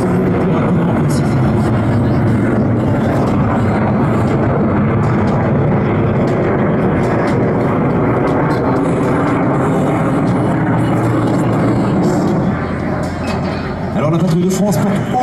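Military jets cross at high speed during an air show at La Ferté-Alais, a continuous loud roar of engines filling the whole stretch with a brief dip near the end, while a commentator talks over it.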